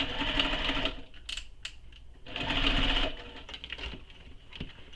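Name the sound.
sewing machine sewing tote exterior to lining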